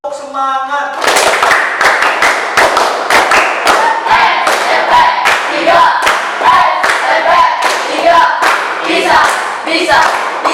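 Classroom students doing a rhythmic group clapping chant led by a teacher, loud sharp claps in quick patterned bursts, with voices chanting along between claps after a brief spoken cue.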